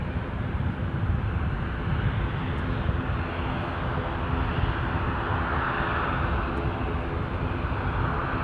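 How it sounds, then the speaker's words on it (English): An ATR 42 turboprop airliner at Edinburgh Airport, bound for Kirkwall, gives off a steady, broad engine roar and rumble that holds constant and fairly loud throughout, with no talking. "This ATR 42 that's coming into view off to Kirkwall."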